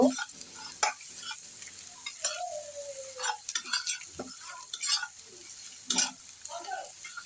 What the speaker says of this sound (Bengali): মশলাগুলো আগে আমি একটু কষায় নিতেছি